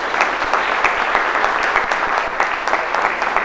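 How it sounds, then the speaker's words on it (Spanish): An audience at a tourism talk bursts into steady, dense applause from many hands, moderately loud and continuous throughout, with no voices rising above it. "Fuerte el aplauso para el honorable cónsul de República Dominicana en New York."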